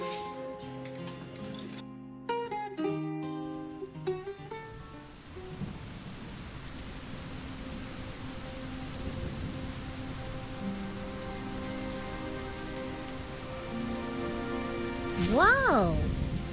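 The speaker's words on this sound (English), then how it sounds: "Whoa! It's raining." Rain falls in the game AFK Journey, a soft steady patter on surfaces with distant thunder rumbling, coming in after a short musical phrase fades and ending with a rising chime.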